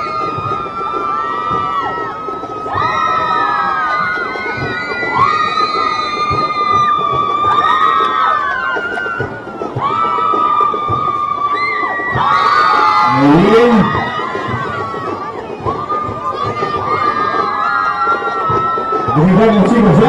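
A large crowd of girls shouts, screams and cheers at a student parade. The noise is loud, dense and unbroken, with rising whoops and excited voices piling over one another the whole time.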